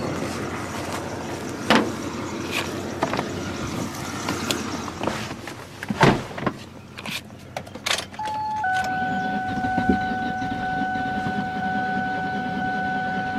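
A car engine cranks and sputters briefly with a few sharp pops and clanks, then settles into a steady whining hum.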